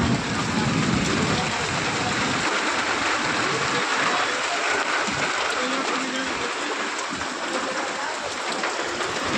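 Heavy rain pours down steadily as a dense, continuous hiss close by, with a lower rumble in the first few seconds before the downpour settles into an even roar.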